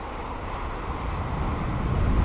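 An aircraft comes in to land at London Heathrow, a steady, dense engine roar rising slightly in loudness over a couple of seconds, with wind noise on the microphone.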